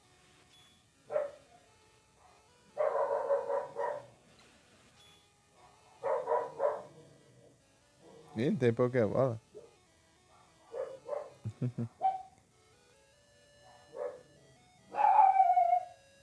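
Dogs bark in bursts in the Game Boy game Final Fantasy Adventure, a few short 8-bit yaps and howls spread across the clip between a man's spoken remarks.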